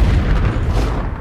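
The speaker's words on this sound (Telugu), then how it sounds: "1997 జూబ్లీహిల్స్లో జరిగిన బాంబ్ బ్లాస్ట్" A bomb blast explosion sound effect from a film trailer: one loud, close, deep booming rumble that fills the short moment without any speech.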